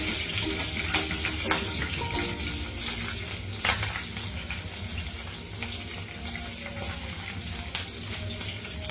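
Two thinly sliced green chillies fry in about one and a half tablespoons of hot oil, a faint, steady sizzle with a few soft pops and spatters, no talking.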